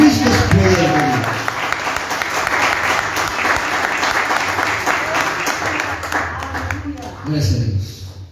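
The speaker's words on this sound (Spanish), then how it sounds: "Vamos a aplaudirle al Señor, porque Cristo es poder de Dios." A church congregation applauds in a long, full wave of clapping, with a voice speaking over the start and again as the applause fades near the end.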